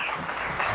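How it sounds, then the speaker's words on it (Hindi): An audience at a motivational training session breaks into dense, sustained applause of many hands clapping together, filling the whole short moment. "ताली बजा के बता दो ना अपने लिए"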